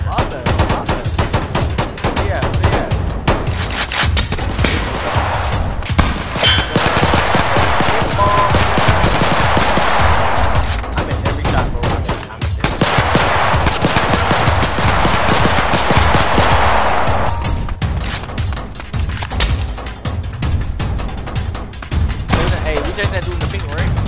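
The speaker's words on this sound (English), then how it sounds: "Yo, you shooting at me?" Rapid automatic gunfire bursts from a Roblox hood-style shooter game, loud, dense and sustained across the whole stretch, with swells of heavier fire and voices talking over it.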